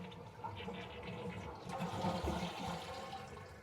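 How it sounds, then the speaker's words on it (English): A toilet with a running-tank fault flushes with a close, rushing gush of water. It settles into a steady refilling hiss from the tank, with no voices over it. "We're gonna flush the toilet, you can hear it run."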